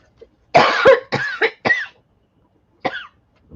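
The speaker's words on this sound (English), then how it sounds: "I'm gonna cough" A close, harsh cough burst followed by several quick coughs in a row, a pause, then one more short cough.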